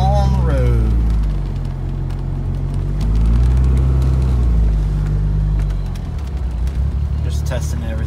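2G AWD DSM car driving on a road at night, a low engine rumble that rises and falls through gear changes, with someone talking over it.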